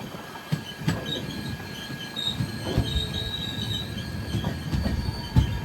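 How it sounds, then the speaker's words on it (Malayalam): The Panchaganga Express pulls into Honnavar railway station on the Konkan line, with a low rolling rumble, a high sustained wheel squeal and periodic clanks from the cars, heard close and without voices. "7:20 ട്രെയിൻ ഇപ്പോൾ ഹൊന്നാവ റെയിൽവേ സ്റ്റേഷനിലേക്ക് എത്തുകയാണ്"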